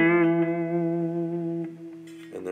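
An electric guitar on an HH Strat-style partscaster, neck humbucker wired in series with bypass off, rings out a sustained chord that fades slowly, with a brief softer strum near the end, heard alone.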